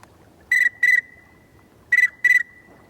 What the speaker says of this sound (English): with this duck whistle, you can make calls that the pintails like